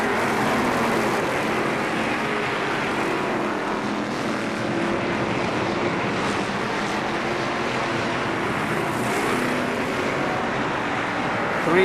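Race cars battle three abreast at KilKare Speedway, a dense, loud, continuous engine roar from multiple cars blending into a broad drone across the whole stretch.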